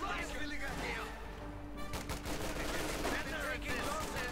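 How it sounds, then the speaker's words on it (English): Light gunfire in the World War II strategy game Company of Heroes 2, scattered rifle and machine-gun bursts crackling at a distance under a continuous battlefield rumble. "Bit of light shooting there."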